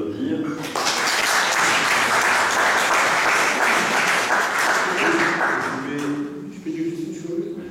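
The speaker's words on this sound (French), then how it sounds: "Je pense qu'on peut l'applaudir." Audience applause fills a hall after a French lecture by a Dominican friar, a loud dense clapping that swells in and holds steady for several seconds before thinning out.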